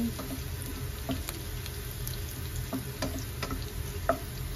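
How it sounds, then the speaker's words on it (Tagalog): Ginger sautéing in oil in a pan, a steady close sizzle that runs throughout, with a few small ticks and clicks of a utensil against the pan. "So ayan, igisa natin yung luya na yan para maano niya talaga yung lasa."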